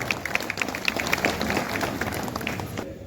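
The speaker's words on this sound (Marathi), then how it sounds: "हात वर करून जरा जोरदार टाळ्या वाजूयात" A crowd claps together in steady, moderately loud applause that fades slightly toward the end.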